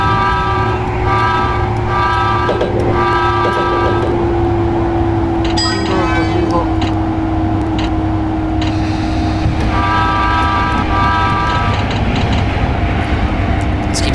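Steady rumble of a running train in the video game Densha de GO, with a sustained horn tone on top and several bursts of chiming warning beeps, loud and close.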